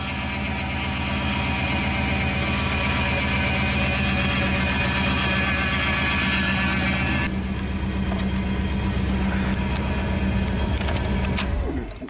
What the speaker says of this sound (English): A good 318 engine